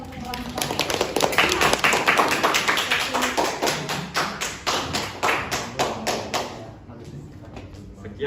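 A classroom audience claps for a group presentation, a dense burst of hand claps that gradually thins into scattered slower claps before fading, with voices talking underneath.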